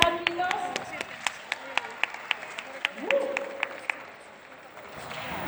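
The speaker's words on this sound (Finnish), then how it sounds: "Aplodien saattelemana" An audience at a stage event claps as performers are led in. The claps are sharp and evenly spaced rather than a dense ovation, and a voice talks over them.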